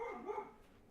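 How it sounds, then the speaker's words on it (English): A dog barks once, short and muffled from a distance, fading out into quiet room tone. "I don't know if you can hear my dog barking"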